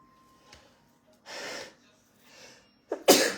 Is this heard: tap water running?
no